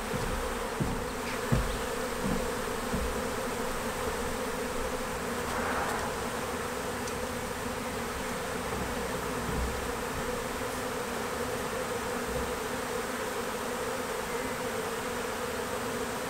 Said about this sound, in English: And then we can just brush the bees off.